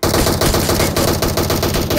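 Sustained, loud automatic fire from a DP-28 machine gun in PUBG Mobile rattles continuously and close by, a dense stream of shots with no pause.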